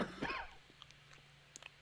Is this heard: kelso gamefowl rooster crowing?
no